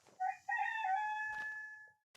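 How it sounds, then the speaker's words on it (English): A chicken in the Minecraft video game lets out one drawn-out, tonal cluck-like call lasting nearly two seconds, clear and alone, followed by a short click. "Here is one chicken."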